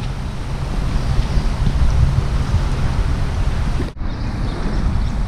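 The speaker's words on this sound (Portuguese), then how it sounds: "E lá veio a chuva de novo." Steady heavy rain hisses and roars close by during a flood in Pomerode, Santa Catarina, Brazil, a broad continuous wash of noise with a brief dip before resuming.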